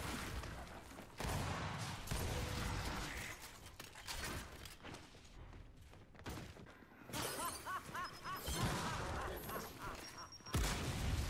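Bursts of gunfire and shattering impacts from the Gears 5 video game during a ranked multiplayer match, dense and continuous across the clip with a brief lull, loud and up close.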